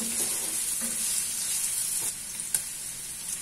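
Egg fried rice ingredients with chicken and capsicum are mixed in a hot pan, giving a steady hissing sizzle with a few soft stirring scrapes and one sharper knock.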